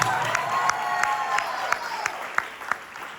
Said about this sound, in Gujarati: તમારી તાળીઓ વગર અમારા કાર્યક્રમની શરૂઆત થતી નથી